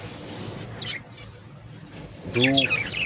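Finches in a breeding aviary give a few short, thin chirps, faint at first and then a clearer burst near the end, over a soft background murmur.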